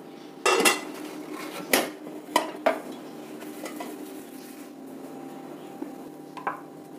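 Rava idli taken out of a steamer after the stove is switched off, with a few sharp clanks and scrapes of metal pots, plates and utensils at close range over a faint background.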